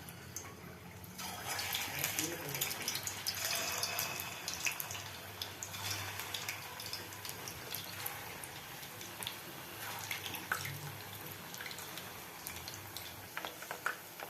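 Chicken cheese balls fry in hot oil with a continuous bubbling hiss and scattered pops, moderately quiet and close, while a voice talks briefly at times over the cooking.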